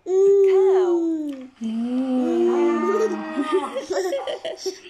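A drawn-out mooing call sounds up close, followed by a young voice babbling and chattering.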